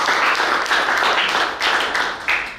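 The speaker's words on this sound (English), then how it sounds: "Please give them a round of applause." An audience at an evening event applauds steadily in a dense, continuous wash of clapping that holds at full level from start to finish, with no voice on top.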